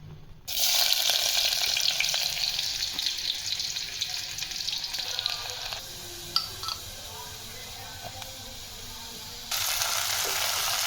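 Beans hit hot oil in a home kitchen pan and a steady, fairly loud frying sizzle holds for about ten seconds. It swells slightly near the end, with faint background clatter and no talking.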